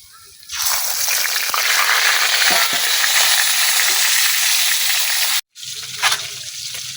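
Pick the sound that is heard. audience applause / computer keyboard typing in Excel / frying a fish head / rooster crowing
frying a fish head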